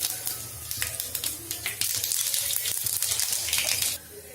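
Mustard seeds hit a little hot oil in a pan while tempering for a buttermilk curry, crackling and sputtering in quick irregular pops that swell into a dense sizzle before dropping off abruptly.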